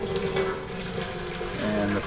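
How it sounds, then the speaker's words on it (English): Boiling water poured into a pan set inside a charcoal grill, a steady splashing, gurgling stream for about two seconds, close, with a voice talking over it. "I'm putting boiling water in the pan."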